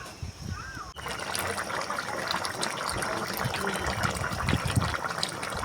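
Bhetki fish curry with potato and fried eggplant simmering in a pan, a steady soft bubbling and trickling liquid sound that runs continuously at a moderate level after a brief quieter start.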